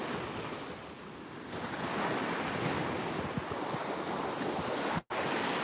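Ocean surf rolling onto a sandy shore, a steady broadband wash of waves with wind noise buffeting the microphone, continuous and fairly close, with a brief dropout near the end.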